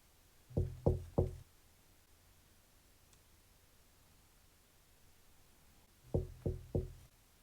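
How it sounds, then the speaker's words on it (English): Two bursts of three quick knocks rap on a window, one near the start and one near the end, with a long quiet stretch of faint hiss between them and no talk. "Who the hell will be knocking at my window?"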